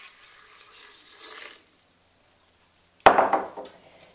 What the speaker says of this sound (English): to that I'm going to add a little bit of water